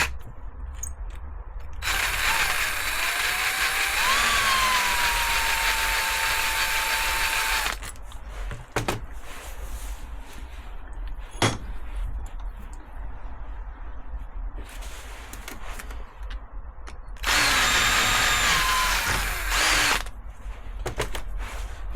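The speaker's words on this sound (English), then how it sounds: "we're going to drill a few holes just to make sure everything lines up" Power drill bores holes through a metal mounting plate for a VW camper wiper motor, two long whirring runs of several seconds each, close and loud, with quieter workshop handling between.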